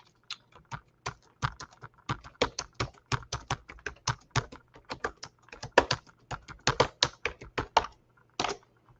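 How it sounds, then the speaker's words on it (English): Rapid, irregular clatter of keys on a computer keyboard, close and fairly loud, in bursts with brief pauses, no voices. "Could you guys hear my typing?"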